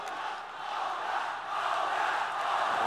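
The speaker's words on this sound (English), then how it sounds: "Will they be able to hear what Yuji says over the noise that this crowd's making?" Noisy arena crowd at a ONE Championship fight roars continuously with shouts and cheers, a steady wash of massed voices before the bout begins.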